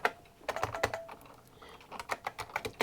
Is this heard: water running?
no